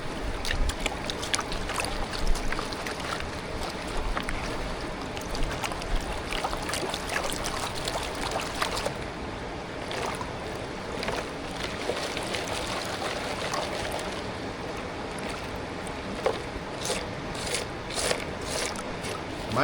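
Gold panning in a stream in a California canyon, with continuous swishing and sloshing of water and gravel in the pan alongside steady flowing water, close and unbroken.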